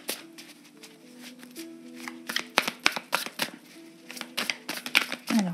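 Lord of the Rings tarot cards being shuffled close by, a run of crisp riffling snaps and papery slaps building in density toward the end, with a faint hum underneath and no talking.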